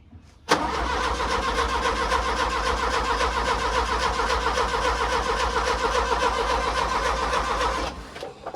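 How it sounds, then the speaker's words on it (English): A John Deere 2010 tractor's diesel engine starts with a sudden jolt and settles into a steady, loud rumbling idle that runs on for several seconds before cutting back. "Let's see if it makes any difference at all in how this tractor starts."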